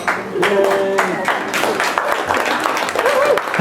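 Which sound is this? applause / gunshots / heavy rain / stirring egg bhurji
applause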